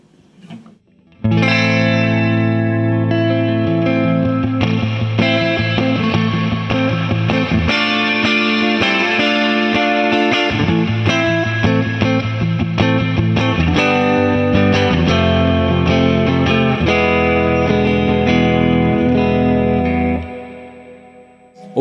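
A spring reverb effect on a guitar-type instrument plays a sustained chordal passage for about twenty seconds, full and washed with a lingering tail before it stops.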